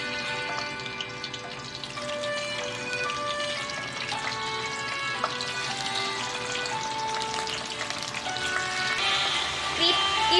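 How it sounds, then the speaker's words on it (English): Brinjals deep-fry in hot oil with a continuous dense crackle and sizzle, steady and fairly quiet throughout with scattered sharper pops. "First thing, we'll be frying the brinjals, guys,"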